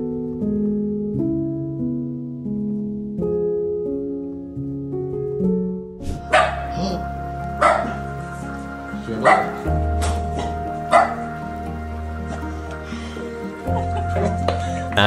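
A dog barks in short bursts of yips and woofs during an excited reunion with its owner at an animal shelter, heard over soft background music that starts alone before the barking begins.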